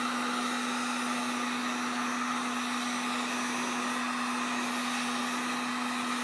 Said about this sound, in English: Now I'm going to be heating this up with a heat gun and shaping it to my iPad mini.